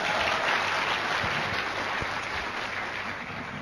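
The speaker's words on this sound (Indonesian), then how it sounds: "Tepuk tangan." Steady applause from an audience fills the room, a continuous wash of clapping that eases slightly toward the end.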